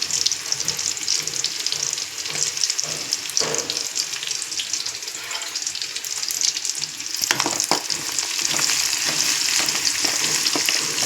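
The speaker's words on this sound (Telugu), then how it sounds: "ఆయిల్ కూడా ఫ్రై అవ్వడం చూడండి." Oil sizzling steadily in a pan with onions for an eggplant fry, a continuous bright crackle close by with occasional stirring scrapes, growing slightly louder toward the end, no voices.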